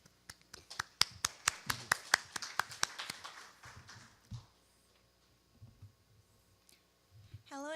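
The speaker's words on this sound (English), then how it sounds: "Please give her a big applause." An audience at a conference presentation gives a short burst of applause, about a dozen sharp claps that fade within a few seconds, followed by quiet room noise and a few faint knocks.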